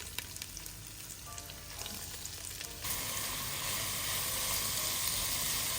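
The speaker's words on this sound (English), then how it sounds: "Once it's warm, I add the chopped leek and onion, and then I add spices." Chopped leek and onion hit warm tallow in a soup pot, breaking into a steady, close sizzle that swells louder partway through and holds as a dense, even hiss.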